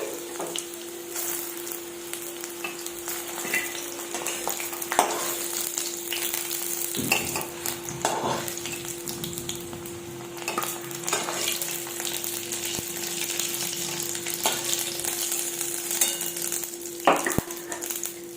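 Potatoes crackle and sizzle in hot oil throughout, with intermittent clinks and scrapes of stirring, moderately loud and continuous.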